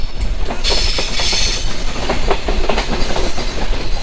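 The Chilahati Express, a Bangladeshi passenger train, runs past close and loud, a steady rolling roar with rhythmic clickety-clack of wheels over rail joints and a brief metallic hiss.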